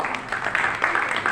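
A crowd claps at an award ceremony, a short burst of scattered, uneven applause at moderate distance with no one speaking over it.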